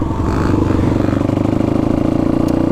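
A supermotard motorcycle engine revs steadily and loudly up close, holding a throbbing, pulsing idle-to-mid rev with a rapid beat as the rider eases into a slow wheelie.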